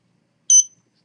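A single short, sharp electronic beep from a proximity distance-sensor buzzer, clear and isolated against silence.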